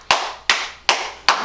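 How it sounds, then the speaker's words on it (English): Four sharp hand claps at an even, steady pace, close and crisp, with brief silence between each clap. "Applause from the crowd."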